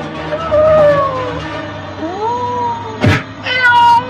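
A cartoon kitten meows repeatedly near a tempo vehicle: several loud, drawn-out mewing cries, close and clear, with a short thump partway through.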